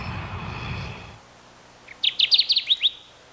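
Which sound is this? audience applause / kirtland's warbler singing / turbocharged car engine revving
kirtland's warbler singing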